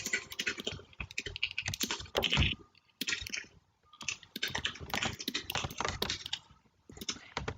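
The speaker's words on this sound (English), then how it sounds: "you are very passionate in your typing" Rapid typing on a computer keyboard, dense bursts of close key clicks with short pauses between runs and no voices.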